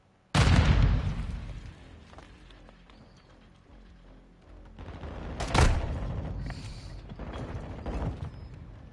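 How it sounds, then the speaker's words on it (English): Cluster mine blasts from Call of Duty Modern Warfare 2 multiplayer: a sudden loud boom, a quieter rumbling stretch, then a second heavy blast with crackling debris trailing off. "Hostile cluster mine deployed."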